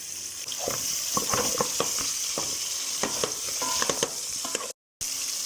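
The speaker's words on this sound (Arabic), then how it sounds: "راح أضيف الفلفل" Chicken and peppers fry and sizzle in a pan with a steady hiss, broken by repeated scraping stir strokes near and loud, and a brief dropout near the end; no talking.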